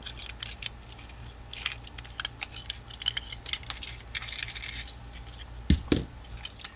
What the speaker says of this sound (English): I'll just take these nuts and bolts out.